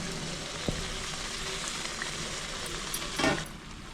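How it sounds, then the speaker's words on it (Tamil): Khaja, a layered sweet pastry, deep fries in hot oil with a steady close sizzle and bubbling, broken by a couple of soft clinks and a brief surge of crackle near the end. "இப்போ காஜா வந்து ஒன்று ஒன்றா போட்டு பொரிச்சு எடுத்துக்கலாம்."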